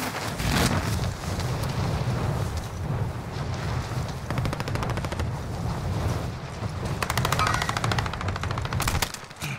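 Call of Duty: Modern Warfare gameplay with dense bursts of automatic gunfire, rapid repeated shots and heavy booms layered over one another, loud and continuous throughout.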